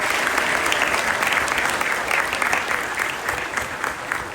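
An audience in a church applauds graduates of the class of 2025, with steady, dense clapping that holds at an even level throughout, broad and full-room.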